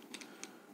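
A handful of quiet, quick keystrokes tap on a computer keyboard, brief clicks in an otherwise hushed room.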